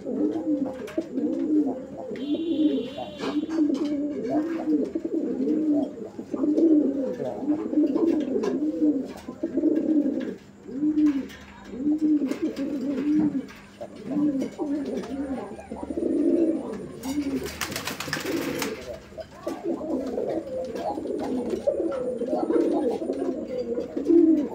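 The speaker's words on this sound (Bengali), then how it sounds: "প্রিয় দর্শক বন্ধুরা কবুতরের যে ডাকের যে কোয়ালিটি" Gopalganj Boro Payra pigeons coo over and over in a steady, rolling rhythm close by. A brief burst of noise briefly breaks the calls partway through.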